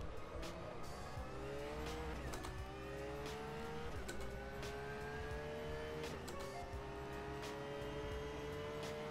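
Porsche 911 GT3 racing at Sebring in the rFactor 2 sim, its engine droning steadily with rising revs and repeated gear-shift drops, plus occasional tire noise, continuous throughout.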